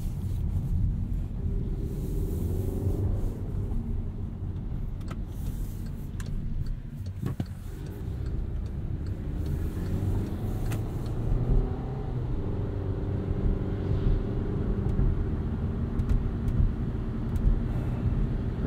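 A 2016 Volkswagen Jetta SE with a 1.4-liter turbo engine accelerates from inside the cabin, a steady low engine drone with smooth rises and dips as the transmission shifts, under road rumble and no talking.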